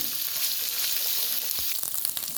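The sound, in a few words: frying ginger garlic paste in oil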